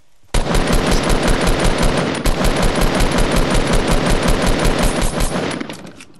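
Sustained automatic gunfire in Fortnite, a long loud stream of evenly spaced rapid shots starting abruptly and continuing for several seconds before fading out, with no voices.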